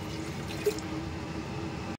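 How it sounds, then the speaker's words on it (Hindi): Water poured steadily into a pressure cooker on a kitchen stove, a close, continuous splashing fill lasting about two seconds before stopping abruptly. "कुकर में मैं ऐड करूँगी पानी थोड़ा"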